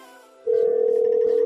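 A steady telephone line tone switches on suddenly as a radio call-in line opens, then holds as a loud, constant pitch after a brief quieter stretch, with no voices over it.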